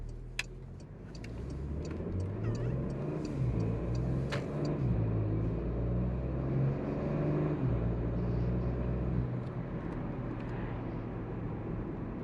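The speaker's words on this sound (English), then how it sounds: "This V6 sounds good." A 2021 Porsche Macan S with its V6 engine accelerates, a steady low rumble building from inside the cabin, with faint ticking clicks over the top.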